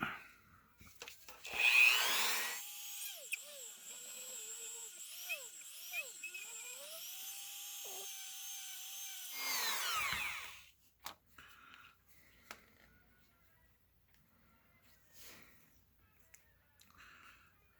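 A small high-pitched rotary power tool grinds into the joint socket of a McFarlane Toys action figure. It sounds in two bursts, the pitch whining and dropping under load, followed by quieter handling noises.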